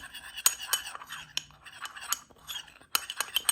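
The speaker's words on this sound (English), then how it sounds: "Get a little spoon and just kind of mix it up" A little spoon stirs homemade pumpkin spice mix in a small ramekin, giving light repeated clinks and scrapes against the dish, close and fairly quiet.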